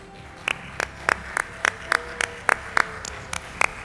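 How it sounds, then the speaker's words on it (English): Sparse, evenly spaced handclaps from a small audience at a children's rights event, a dozen or so distinct claps with quiet gaps between them. "A round of applause."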